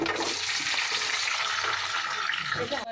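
Green chillies fry in oil in a pan, with a moderate, continuous sizzle and some crackle up close.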